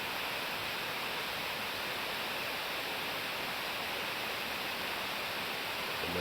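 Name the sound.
waterfall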